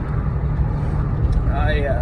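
A car driving on a road gives a steady low engine and road rumble inside the cabin, with the driver talking over it throughout.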